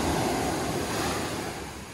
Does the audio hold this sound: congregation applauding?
no